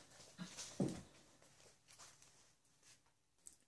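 A new puppy lets out a few short, faint whimpers near the start, followed by quiet room tone with small soft rustles.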